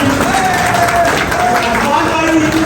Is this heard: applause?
yes